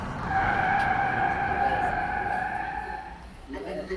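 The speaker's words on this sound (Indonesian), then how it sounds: "Volvo brake test." A Volvo car skids under hard braking in a brake test, tires squealing loudly and steadily for about three seconds before the sound fades out.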